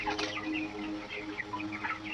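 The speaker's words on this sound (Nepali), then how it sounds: "कुखुरा" Broiler chickens about 23 days old and nearly 1.5 kg each cluck softly in a poultry shed, with a few faint scattered calls over a low, steady background.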